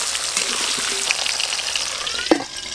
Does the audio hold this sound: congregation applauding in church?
no